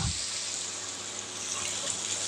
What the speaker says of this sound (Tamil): ஒன்றுக்கு ரெண்டு தண்ணி ஊற்றிக்கலாங்க